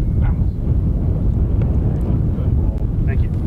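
Strong gusty wind over an open golf course, about 25 mph, buffeting the microphone as a steady loud low roar throughout, with no talk.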